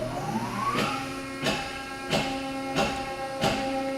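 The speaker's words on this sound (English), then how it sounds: "Okay, pump's coming on." A waterjet cutter's high-pressure pump starts up, a rising whine settling into a steady hum, with rhythmic hissing pulses repeating about every two-thirds of a second, close and moderately loud.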